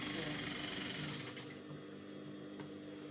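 A sewing machine stitching a fabric seam on a cowl bubu kaftan gown, a steady close mechanical whirring hum that eases off partway through.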